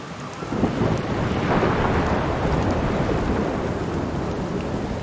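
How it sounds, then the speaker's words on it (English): Steady heavy rain and rolling thunder from the storm in the video game Outer Wilds, a dense continuous roar with low rumbling that swells slightly, with no voices. "Storm in the middle is so cool."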